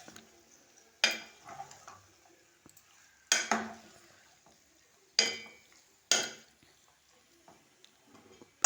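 A spoon stirring chicken curry in a pot, with four loud scraping, clattering bursts of metal against the pan amid a soft background sizzle, close up and without talk.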